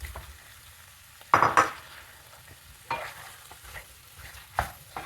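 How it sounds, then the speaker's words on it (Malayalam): One kilo of chicken cooking in a pan for a curry, with a soft sizzle under a few sharp bursts of stirring and scraping, close and without talk. "1 കിലോ ചിക്കൻ ചേർത്ത് കൊടുക്കാം"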